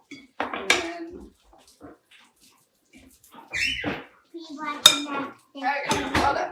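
Veggie frittata batter being mixed in a bowl with a utensil, giving a few loud clinking and scraping bursts with short pauses between them, close by and heard on their own.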